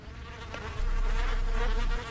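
A fly buzzes loudly and continuously close by in the horror game Bloody Room, a droning whine that swells and holds steady before easing off, alone without voices.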